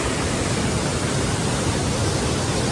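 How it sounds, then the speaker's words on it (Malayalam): Water released from a dam built in 1943 pours into an irrigation channel, making a dense, steady rushing roar that is loud and unbroken for nearly three seconds. "ഈ തോട്ടിലോട്ട് വെള്ളം വരുന്നുണ്ട്"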